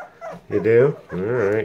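Airedale Terrier puppies on their first day with eyes open give a soft whimper and yip close by, mixed in with a person talking gently to them.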